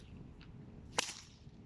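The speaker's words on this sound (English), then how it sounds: "doing a couple of the basic, more intimidating whip cracks. So the loud sonic boom sound" A snake whip gives a single sharp, loud crack that stands out clearly against a quiet room, with a faint swish just before it.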